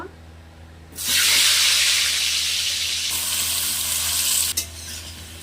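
Potatoes coated in salt and turmeric drop into hot mustard oil and burst into a loud, steady sizzle. The sizzle stays strong, swells once, then settles after a brief clatter near the end.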